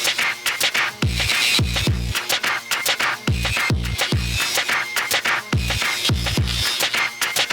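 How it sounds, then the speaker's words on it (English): A filtered drum loop with a busy shaker groove and punchy kick hits in a steady repeating pattern, dense and close, with no voices. "So if I listen to the whole drum group, it sounds like this."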